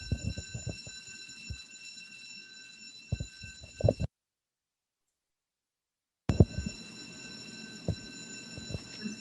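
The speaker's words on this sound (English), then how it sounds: "Fire alarm?" A building fire alarm sounds as a steady high electronic tone with harmonics, cutting out for a couple of seconds midway before resuming, with room noise and knocks around it.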